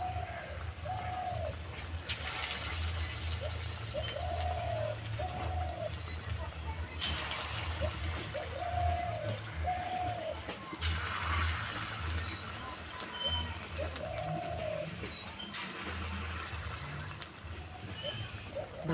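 Pumpkin kofta balls fry in a pan with a steady, close sizzle that swells into louder crackling bursts every few seconds, while a bird coos repeatedly in the background.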